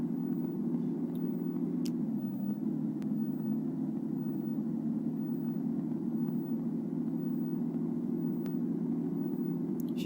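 A city bus engine in Bus Simulator Ultimate, running on an Istanbul route in IETT livery, gives a steady low rumble and drone, loud and unbroken, with a few faint ticks over it.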